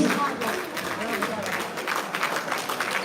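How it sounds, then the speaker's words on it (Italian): Crowd applause for the runner-up boxer from Verona at a regional elite boxing tournament final in Veneto, a steady wash of clapping in a large hall with voices mixed in. "Facciamo un applauso a Dos Marvoci, la box Marvoci di Verona"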